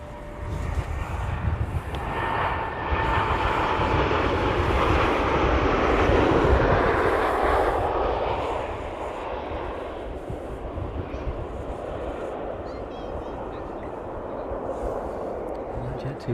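A passenger jet landing at East Midlands Airport, a loud sustained engine roar that swells, peaks as it passes nearby, then fades into a lower rumble; a voice speaks briefly over it.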